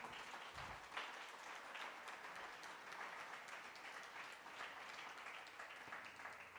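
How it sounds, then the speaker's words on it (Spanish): Steady, sustained applause from a church congregation, a dense wash of many hands clapping at a distance, fairly faint and unbroken throughout. "Denle un aplauso al Señor"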